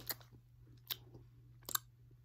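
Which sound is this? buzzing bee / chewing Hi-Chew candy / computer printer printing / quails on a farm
chewing Hi-Chew candy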